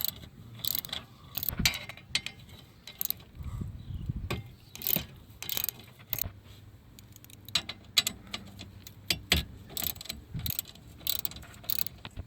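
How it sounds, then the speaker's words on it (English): A ratchet backs out 10mm bolts from a Kia Soul dash, giving quick clicking bursts with pauses and the odd metallic clink, close up and fairly quiet. "Okay, we're going to take these 3 10mm out,"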